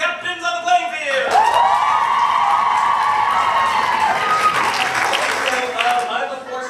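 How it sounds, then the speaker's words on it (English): Audience at a ComedySportz improv comedy match erupts in loud, sustained cheering and whooping with clapping, a roaring crowd swell lasting several seconds before tapering off. "I want uproarious applause"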